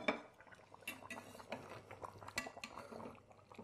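A ceramic serving dish for lamb is moved about on a kitchen counter, giving soft irregular clinks and knocks close by with light scraping between them, fairly quiet.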